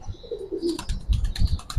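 Bagha and silver giribaj pigeons coo in a short, low burble up close, joined by quick fluttering and rustling clicks.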